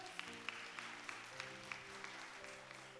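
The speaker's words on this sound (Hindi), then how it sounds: "ताली बजाएंगे जोर से" A church congregation claps together at a Sunday service, steady rhythmic clapping with a regular beat, fairly faint and distant, with sustained tones from music underneath.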